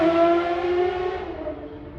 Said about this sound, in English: we have people racing on the streets.